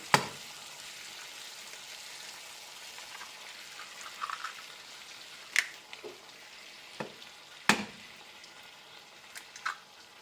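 Bacon fries in a pan with a soft, steady sizzle and crackle, punctuated by a few sharp pops and clatters of utensils, fairly quiet and with no voices.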